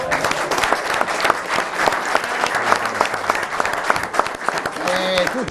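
A crowd applauds young riders standing by their mini motorbikes at an Italian motorcycle federation event, a dense, sustained clapping that fills the whole span, with a brief voice near the end.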